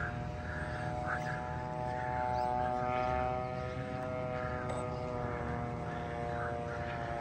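A radio-control model airplane engine drones at a fly-in event, faint and distant, swelling slightly as the throttle is opened and eased back.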